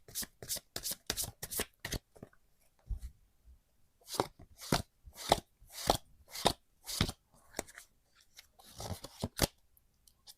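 Tarot cards are shuffled in repeated bursts of crisp riffling and slapping, each run a second or two long with short pauses between, recorded close up and clear with no talking.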